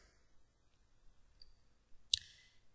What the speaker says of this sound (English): we click on that link